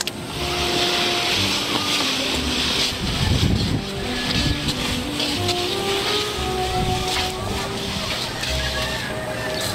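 A boat engine runs at low speed as a continuous, loud mechanical drone, steady from start to finish, with breathy wind-like noise layered over it.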